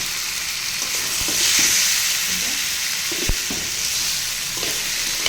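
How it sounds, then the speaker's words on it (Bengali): Sweet pumpkin fries gently over low heat in a pan, a steady soft sizzle broken by a few scraping stirs and clinks of the spatula, close and with no talking. "এরকম অল্প তাপে সুন্দর করে আস্তে আস্তে ভেজে নিতে হবে, যাতে পোড়া না লাগে।"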